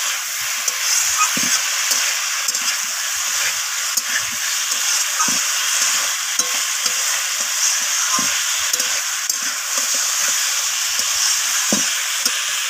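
Flat beans, potato and cauliflower fry hard in a pan with a loud, unbroken sizzle, while faint clicks and scrapes of stirring repeat irregularly throughout.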